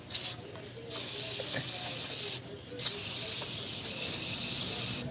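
Two bursts of brake cleaner spray on a brake wheel cylinder, a short hiss and then a longer sustained one, close by against a quiet room background.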